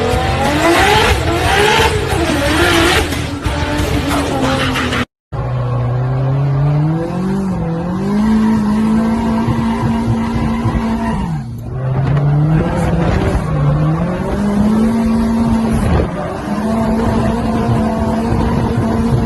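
Toyota Supra with a 2JZ engine roaring past, loud and close, its engine note rising and falling with revving and gear changes over about twenty seconds after a brief cut.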